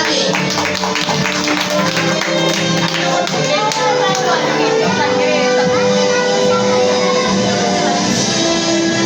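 A crowd applauds at a kindergarten recognition day, with a burst of scattered hand claps that thins out over the seconds while a voice carries on over it.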